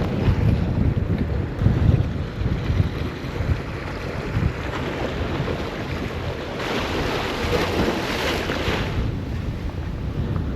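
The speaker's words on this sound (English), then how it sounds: "It's getting a bit windy up here." Steady wind roars and buffets across the microphone outdoors in Gladstone, Queensland, with low rumbling gusts throughout and no voices.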